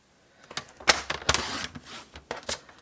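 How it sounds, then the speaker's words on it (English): A paper trimmer slices through a coffee sachet pouch: a few crisp snapping cuts and sliding scrapes, close and fairly loud, with quiet gaps between strokes and no talking. "I'm going to cut from this middle point down to the outside, which is why I've got my trimmer out."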